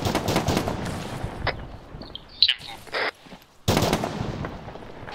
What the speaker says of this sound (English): Is that you, Rojo, up on the hill taking shots?